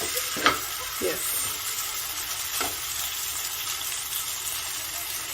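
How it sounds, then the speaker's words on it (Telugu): Fish fries in a pan with a constant close sizzle, punctuated by a few sharp clinks and scrapes of a utensil. "ఇప్పుడు ఇది ఇటువైపు ఫ్రై అయినట్టుంది. ఇప్పుడు టర్న్ చేసి చూద్దాము."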